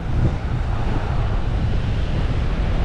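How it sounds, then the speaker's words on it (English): Gulf of Mexico waves breaking on a white-sand beach at Pensacola, Florida: a loud, continuous roaring wash of surf mixed with wind buffeting the microphone, close and unbroken, with no speech. "These are pretty good sized waves when you consider how the Gulf usually is."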